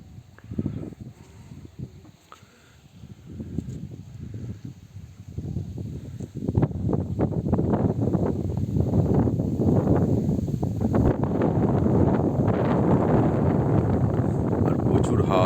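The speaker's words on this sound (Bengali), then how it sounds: "আর প্রচুর হাওয়া দিচ্ছে, ঠান্ডাও লাগছে" Strong wind sweeps along the Damodar river near boulders, buffeting the microphone in rough gusts that swell after a quieter start into a loud, continuous rush.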